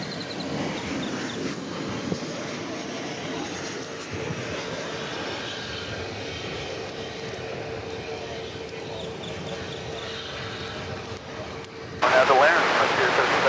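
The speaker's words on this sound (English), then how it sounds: "let's watch American Flight 1098 arriving from Kansas City" A passenger jet airliner arrives at DFW Airport with a steady, broad engine roar that holds for about twelve seconds before a louder burst of rushing noise at the end, with faint voices in the background.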